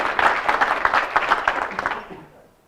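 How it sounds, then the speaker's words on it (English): A conference audience claps in a brief burst of applause that swells quickly, then fades out over a couple of seconds. "So please a round of applause for Lukas."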